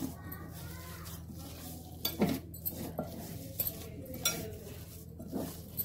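Spices being mashed and stirred into a chicken kofta mixture in a bowl, giving soft squelching stirs and a few sharper clinks of a utensil against the dish, close by and moderately quiet.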